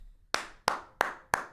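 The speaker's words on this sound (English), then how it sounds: "Clap it up, chat." Four sharp hand claps land at an even pace about a third of a second apart, crisp and close, with short decays and no voices over them.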